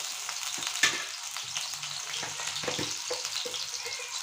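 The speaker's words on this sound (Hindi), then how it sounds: "चम्मच डाल दिए कढ़ाई में, है ना? ये आलू का फ्राई कर लेंगे।" Potatoes fry in a kadhai, a close and steady sizzle broken by scraping stirs and clinks of a spoon against the pan, with no talk.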